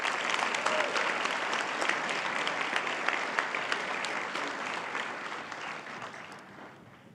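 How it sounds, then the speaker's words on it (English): Audience at a girls and women in sports luncheon applauding high school winners, dense sustained clapping that gradually fades toward the end, moderately close. "Let's give our Legend High School winners a big round of applause."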